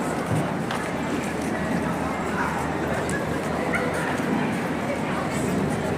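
A dog barks and yips repeatedly amid a dense, noisy outdoor scene, with people talking in the background.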